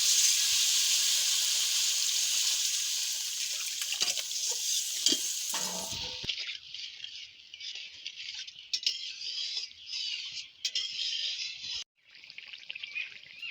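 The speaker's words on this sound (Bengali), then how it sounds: "এবার আমি জল দিয়ে দিচ্ছি" Water poured into a hot oiled pan of frying potatoes for koi fish curry, a loud hissing sizzle that fades into softer bubbling and spoon stirring, close by without speech.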